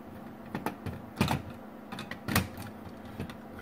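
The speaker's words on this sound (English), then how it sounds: "we've got just 5 screws. Pretty easy to open up." Screws are being removed to open a Nerf Maverick blaster, giving quiet, close, irregular clicks and scraping taps from a screwdriver and plastic shell, spread across a few seconds.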